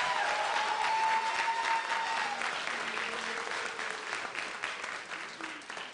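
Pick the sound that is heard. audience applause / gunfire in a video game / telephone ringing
audience applause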